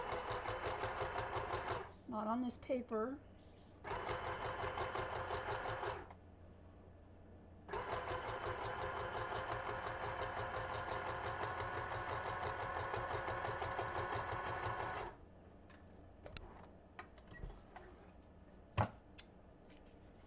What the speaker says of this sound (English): The sewing machine is relatively quiet.